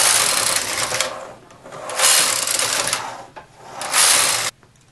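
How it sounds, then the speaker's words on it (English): A domestic knitting machine with ribber runs a 3x1 ribbing, its carriage sweeping across the needle bed in three loud, rushing mechanical passes, each ending in a brief pause and then silence. "Now I'm going to just go ahead and knit 4 rows. And now it's doing a 3x1 ribbing."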